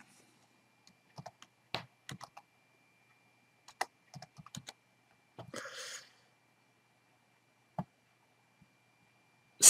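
Sparse, crisp clicks of someone typing on a computer keyboard, in short irregular bursts separated by quiet pauses, with a louder rustle partway through.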